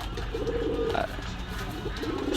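Low, soft cooing of Chinese pigeons in a shop, two rolling calls a moment apart over a murky background hum.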